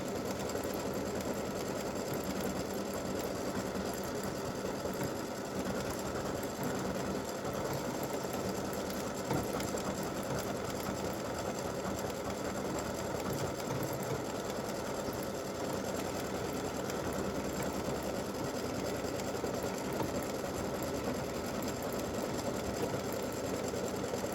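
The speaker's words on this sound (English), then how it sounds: "I have my red bobbin in, and this should stitch without stopping and cutting until it's finished" An embroidery machine stitches a free-standing lace awareness ribbon with red bobbin thread, giving a steady, unbroken mechanical whir and rapid needle chatter that continues evenly at close range throughout.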